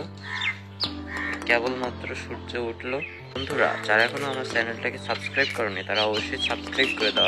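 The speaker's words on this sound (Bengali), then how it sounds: "দেখো পাখির কিচিরমিচির আওয়াজ আসছে।" Crows caw and smaller birds chirp around a rooftop just after sunrise, calling intermittently beneath a person talking throughout.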